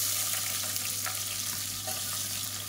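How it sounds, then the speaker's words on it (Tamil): Steady crackling sizzle of whole spices frying in hot oil, with a continuous low hum beneath. "இப்போ பாருங்கள், மசாலா பொரிய ஆரம்பிக்குது."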